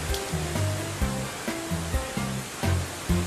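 Broadband rushing waterfall roar from the game Deadly Premonition runs steadily throughout, with low musical tones layered over it.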